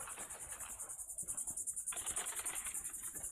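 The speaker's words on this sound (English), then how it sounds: "That cicada's too high." Cicada buzzing high in the trees on a summer nature hike on Florida's Space Coast: a steady, shrill, pulsing drone that stays continuous throughout, at moderate distance, with no voices.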